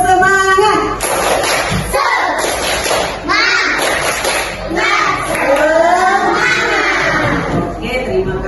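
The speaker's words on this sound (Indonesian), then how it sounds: "Kita akan tepuk semangat, suara dan tepukannya harus semangat." A primary school class in Makassar performs a rhythmic spirit clap with loud group chanting, children's voices shouting in unison over sharp, regular clapping close by.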